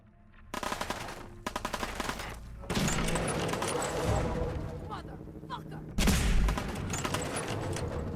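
Enemy gunfire in Fallout 4, played on PS5 in Survival Mode: rapid bursts of loud automatic shots crackling in dense volleys, with brief gaps and a heavier burst near the end.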